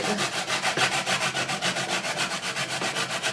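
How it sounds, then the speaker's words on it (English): Carrots scraped over the small, fine side of a metal grater make a close, rhythmic rasping, with quick back-and-forth strokes repeating evenly throughout and no talking. "We need 3 cups of finely grated carrots. That means we use the little side."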